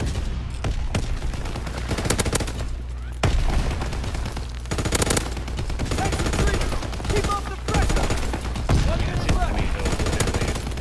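Heavy gunfire in Call of Duty WWII rattles on throughout, with machine-gun bursts, single shots and explosions close and loud as a tank advances on infantry.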